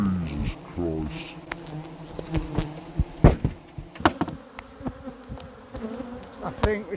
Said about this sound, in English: I'm covered in bees.